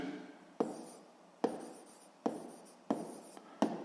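Chalk writing on a classroom board during a sixth-grade math lesson: five sharp taps, each followed by a short scratchy stroke, evenly spaced, close and faint with no talk.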